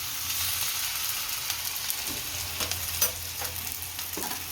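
Rava uttapam frying on a hot pan gives a steady, close sizzle, broken now and then by faint taps and scrapes. No one speaks.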